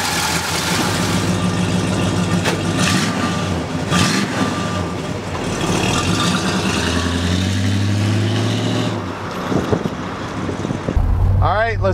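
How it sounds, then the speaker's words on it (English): A 1970 Dodge Charger R/T engine rumbles close by while driving, with low mechanical drone and a rising tone partway through, heard alone without talk. "let's take this Charger for a ride"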